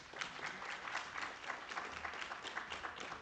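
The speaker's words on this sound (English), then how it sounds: "Can we give them another round of applause" Audience applause at a national climate governance summit, a dense, even patter of many hands clapping, fairly distant and soft, holding steady throughout.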